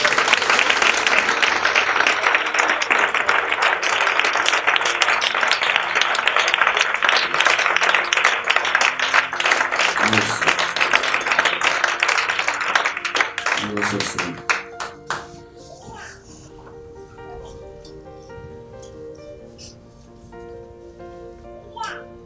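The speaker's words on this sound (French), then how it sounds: "Est-ce qu'on peut acclamer la présence du Seigneur?" A church congregation applauding at a worship service, sustained dense clapping mixed with cheering voices that fades out, leaving softer scattered sounds and music.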